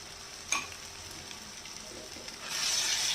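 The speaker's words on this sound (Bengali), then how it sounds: "ভালো করে ভাজতে হবে মশলার সাথে, কাঁচা গন্ধটা চলে যাওয়া পর্যন্ত" Ginger garlic paste frying with spices in a pan gives a steady soft sizzle, with a brief stirring scrape near the start and the frying growing brighter toward the end.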